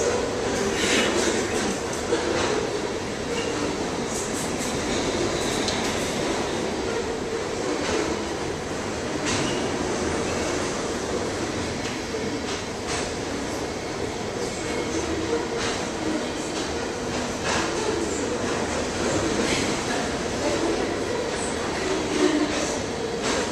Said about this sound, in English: I was trying to complete that thought before the train came by.